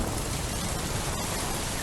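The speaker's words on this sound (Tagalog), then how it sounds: "Basang-basa na ako sa ulan." Steady, heavy rain pours down outdoors, a dense uninterrupted hiss of drops on surfaces that fills the short moment without any voices.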